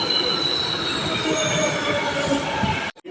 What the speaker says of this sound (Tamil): நம்ம ட்ரெயின் வந்துட்டு பாருங்கள்